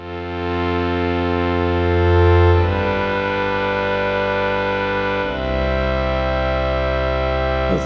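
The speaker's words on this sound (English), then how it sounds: "Let's add some reverb." A droning synthesizer patch in a Dronage synth segment with reverb being added, the rich sustained tone shifting chords twice and taking on a washy, echoing tail, loud and alone.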